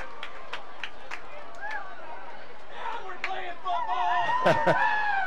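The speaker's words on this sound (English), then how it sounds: "You hear the fans of Owen Valley making some noise on that." Owen Valley fans at a high school football game against Northview stir up a steady crowd roar with chatter, whoops and a few sharp shouts building toward the end.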